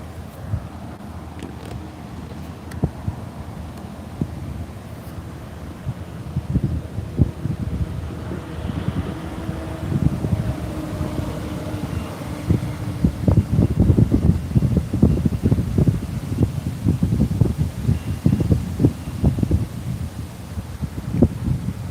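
Outdoor wind gusts buffet the microphone at a bird fledge-watch site near a railing, a steady rushing roar that swells and grows louder in the second half, with low rumbling bursts and no talking.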